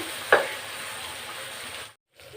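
Chana dal drops into hot oil for veg dalcha: a brief splash as it goes in, then a steady, even sizzle that cuts off abruptly.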